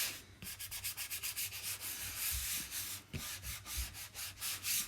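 Chalk paste is pressed and spread across a stencil screen in repeated rubbing strokes, a scratchy scraping that rises and falls in quick, even passes.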